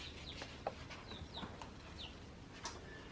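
Faint, thin peeps and cheeps from a few baby chicks come in scattered short calls over a soft background hiss, with no talking.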